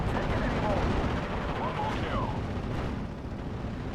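Bombing strike by a Ju-88 on M18 Hellcats in the Steel Division: Normandy 44 strategy game, a steady heavy rumble of explosions and battle din that continues without pause, with talk over it.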